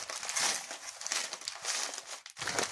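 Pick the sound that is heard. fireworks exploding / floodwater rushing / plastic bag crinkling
plastic bag crinkling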